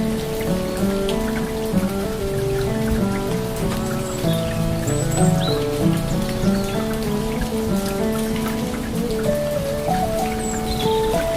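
Steady rain falls outdoors in nature, a dense continuous patter of drops on surfaces with a few faint bird chirps mixed in, even and unbroken throughout.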